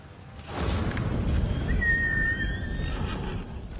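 A horse in the video game Ghost of Tsushima lets out a loud, drawn-out whinny over a whooshing game ambience, close and clear with no talk.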